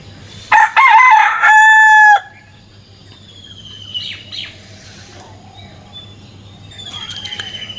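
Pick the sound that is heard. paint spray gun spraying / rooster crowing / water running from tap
rooster crowing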